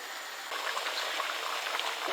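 Chicken curry thickened with corn flour simmering in a pot, a soft steady bubbling and faint crackle held at a low, even level throughout, with a small louder knock at the very end.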